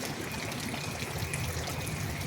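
Floodwater rushes steadily along a street after a night of heavy rain in Iguatu, a constant close wash of flowing, trickling water with no other sounds.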